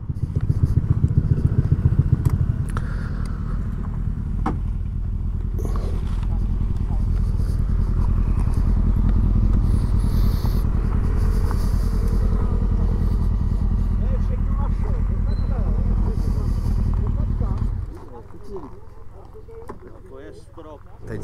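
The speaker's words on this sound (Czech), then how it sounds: "Tady další motorkáři." Motorcycles on a road in the Krušné hory mountains rumble loudly nearby for most of the stretch before the roar drops away. Wind noise runs throughout, and a voice speaks over it.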